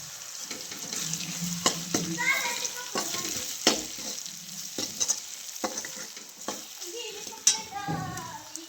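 Tomato and chili powder sizzling and frying in oil in a pan, with a spoon scraping and stirring through it in irregular strokes and a steady hiss underneath, close and moderately loud.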